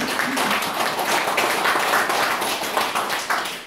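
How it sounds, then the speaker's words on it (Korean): A religious gathering's audience claps for one another, a dense, continuous burst of many hands applauding at close range, steady for a few seconds with no speech over it. "서로를 위해서 박수 한번 쳐드립니다"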